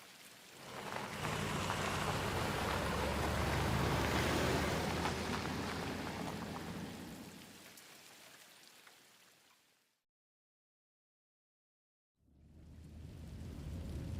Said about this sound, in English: Some time later, it is still raining.